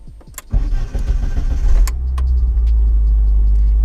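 A Ford Fiesta RS Turbo engine cranks briefly, catches and settles into a steady, deep idle, loud and close.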